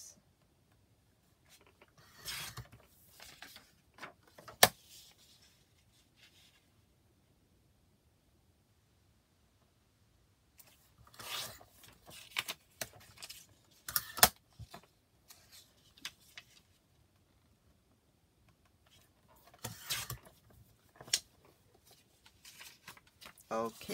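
Paper for an envelope journal is cut in short bursts of scraping, sliding strokes, one near 3–5 s and a denser run around 11–14 s and 20–23 s, close and quiet, with long still stretches in between.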